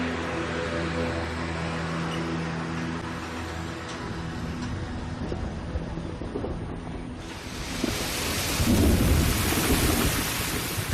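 Heavy cyclonic rain pours in the Nilgiri hills, a dense steady hiss with low rumbling thunder rolling underneath, building to a louder, fuller downpour toward the end.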